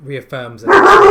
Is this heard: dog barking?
yes